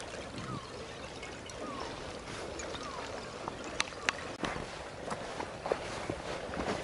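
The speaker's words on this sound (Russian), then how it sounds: "Льдины стучат друг об друга." Ice floes knock together: scattered sharp knocks and clicks over a steady watery wash, irregular and fairly close, with faint clinking taps.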